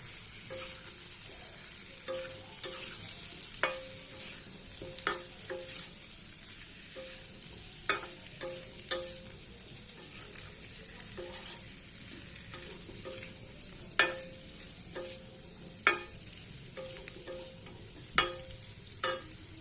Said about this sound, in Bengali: এবার ভেজে রাখা পনিরগুলো দিয়ে দিচ্ছি আবারও ভালো করে পনিরের সাথে কষিয়ে নেব